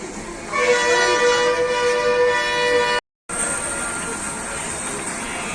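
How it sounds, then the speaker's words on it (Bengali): A toy train in Vizag sounds a long, loud, steady horn as it departs, holding for a few seconds before a brief dropout, then a quieter rumbling continuation with a high whine. "টয় ট্রেন ছেড়ে দিয়েছে।"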